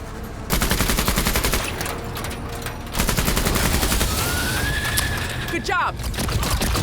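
Video game gunfire crackles in rapid bursts of sharp shots, with a pause before a second volley, followed by a rising synthetic whine and a brief swoosh while faint voices speak.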